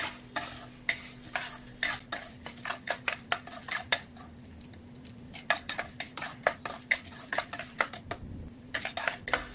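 A utensil clatters rhythmically against a pan as sambhar masala spices are dry roasted, making rapid repeated scraping taps over a low sizzle.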